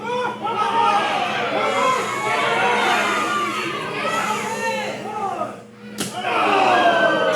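A sharp wrestling chop slaps against an opponent's chest once, loud and sudden, in a championship match with a noisy, chattering crowd roaring throughout.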